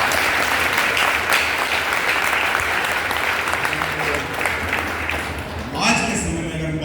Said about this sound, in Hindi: एक बार जोरदार तालियां महिलाओं के।